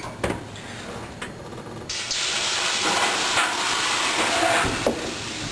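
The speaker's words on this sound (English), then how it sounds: "I'm going to steam it first and then put the loaf of bread in." Steam hisses into a hot oven before a loaf of artisan bread goes in to bake, a steady broad spray that starts after a brief pause and holds loud and continuous to the end, with a short thump near the close.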